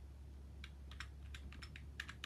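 A newly unboxed computer keyboard is typed on in short bursts of quick, crisp keystrokes, heard faintly and close up with no talking.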